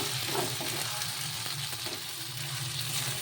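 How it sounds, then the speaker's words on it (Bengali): Snails being stir-fried in a pan with small pre-fried potatoes in a spicy masala, giving a loud, continuous sizzle with scraping stirs and no talking. "এবার দিয়ে আমি দুটোকে আবার কিছুক্ষণ সুন্দর করে 10 মিনিট মতন কষবো।"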